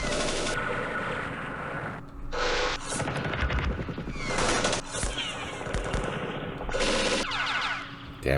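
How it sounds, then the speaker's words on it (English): Machine-gun fire from the wargame Campaign Series West Front during the D-Day Omaha Beach battle: repeated rattling bursts of varying length, loud and close, with short gaps between them. "Damn machine guns."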